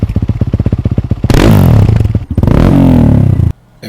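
A single-cylinder motorcycle engine idles with a loping, rapid thump, then is revved hard twice in loud, rising bursts before cutting off abruptly, recorded up close with no voices.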